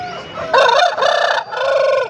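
A rooster at the Pileru hen market crows loudly and close by, a three-part bright call with short pauses between the segments, standing clearly over faint market background noise.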